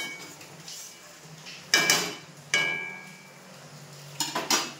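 A metal pot lid lifted off a pot of lote fish curry, several sharp metallic clanks and scrapes spaced apart, close and moderately loud.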